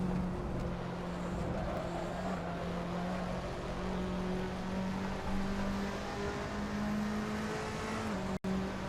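Front-wheel-drive Fiat Tipo touring car racing at Barcelona in a video game, its engine droning steadily at high revs with a constant whine and a brief sharp cut near the end.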